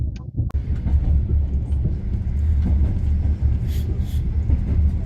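A Mongolian night train runs along with a heavy, continuous low rumble and rattling carriage noise, loud and close from inside the car, with faint brief voices in the background.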